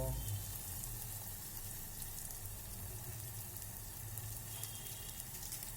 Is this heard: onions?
yes